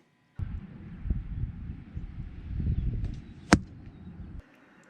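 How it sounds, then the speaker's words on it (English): An arrow leaves a hunting bow and strikes its target, heard as a sharp, close crack standing out from a rushing, gusty wash of wind-like noise outdoors. "I could hear that arrow coming through there"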